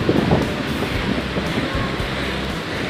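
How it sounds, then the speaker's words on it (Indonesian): Strong sea waves rolling onto a beach with breakwaters in rough weather, a continuous loud wash of surf mixed with gusty wind buffeting the microphone, no voices. "ombak juga kencang"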